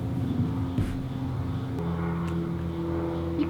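A small Cessna airplane drones overhead with a steady low engine hum that shifts pitch partway through, accompanied by faint intermittent background sounds and no speech.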